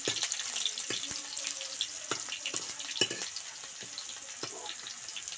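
Green chillies sizzle softly in a pan for a suran curry, a faint continuous crackle under scattered sharp clicks and taps of a spoon against the pan, with no voices.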